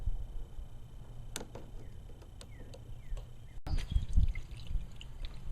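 Gasoline drains from the crankcase of a John Deere STX38 Hydro lawn tractor, a steady low trickling pour with scattered drips, briefly cut off near the middle, then a fuller, louder splash of liquid.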